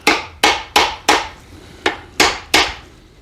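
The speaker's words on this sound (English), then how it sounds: "And I have this tiny little cobbler's hammer." Seven sharp metallic-wooden knocks of a small cobbler's hammer tapping a seal in on a 340 Dart, close and loud, in an uneven rhythm with short pauses between strikes.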